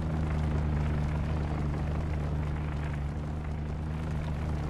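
An aircraft flies past in the UBOAT submarine game, its engine a steady, loud drone with a low hum that holds throughout, with no talking.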